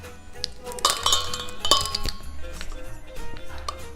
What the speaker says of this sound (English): I'm adding 1 teaspoon of all the spices to my flour